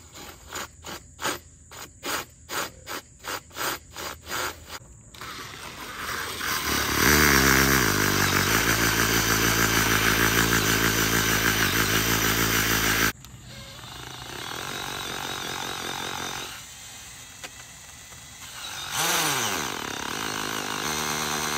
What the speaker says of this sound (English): I'm gonna try to drill some holes and see what happens